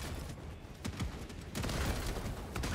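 A turret firing in the Helldivers 2 video game, a dense, muffled fusillade of rapid shots and booms running throughout, fairly faint and distant-sounding, no talking.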